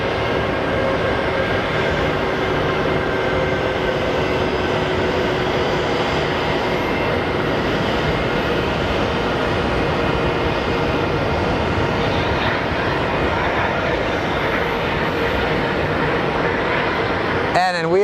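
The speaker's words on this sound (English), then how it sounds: "And we have our Delta Airlines flight coming in from Seattle" Delta Airlines airliner arriving from Seattle at Phoenix Sky Harbor, a steady broadband engine roar that holds loud through the whole stretch, with talk mixed in underneath.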